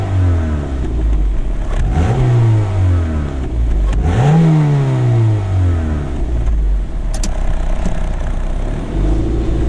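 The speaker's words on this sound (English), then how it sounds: "Give a bit of a stock rev." A Mazda MX-5 NC with its stock exhaust revs up twice in sharp rising sweeps, loud and close, over a steady engine drone, then settles back toward idle.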